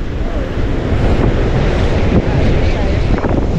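Strong wind buffets the microphone on a beach at Casapsapan Eco Park, Casiguran, during the amihan monsoon, with a continuous loud roar of surf beneath the gusts.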